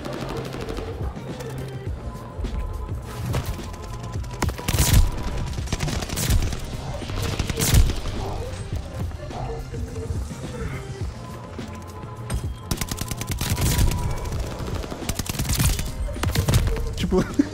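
Video game gunfire: repeated rapid volleys and single loud shots crack over a constant background hum, some sharp and close, in dense clusters across the clip.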